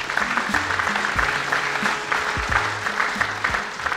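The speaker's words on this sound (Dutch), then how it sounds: "Ik vraag u een ovationeel applaus voor Foppe de Haan" A packed hall at the 6th VVON football coaches' congress gives Foppe de Haan a sustained ovation, with thick, steady applause over low music carrying throughout.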